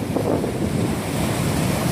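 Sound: rough ocean waves at a jetty in sea fog

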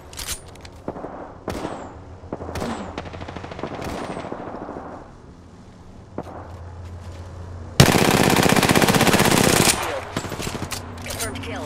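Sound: gunfire in the video game Apex Legends

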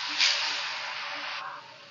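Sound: snack dough frying in hot oil

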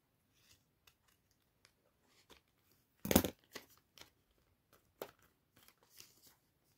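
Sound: cutting off paper extras with scissors

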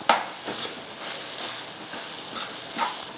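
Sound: stirring grated coconut in a pan

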